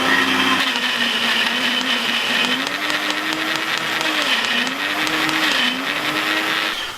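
A blender whirs through a thick broccoli and green superfood chocolate shake, its motor pitch dipping and rising as the load shifts, loud and continuous before cutting off at the end.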